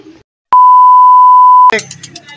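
An electronic pigeon racing clock gives one loud, close, steady beep lasting about a second as a racing pigeon is clocked in, and speech starts right after it.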